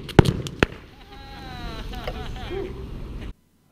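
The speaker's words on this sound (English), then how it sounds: "as the melon bursts apart, and then pieces go everywhere." A melon struck by molten salt reacting with water bursts apart with two sharp cracks close together, followed by a lingering hiss and fizz as pieces scatter, then sudden silence.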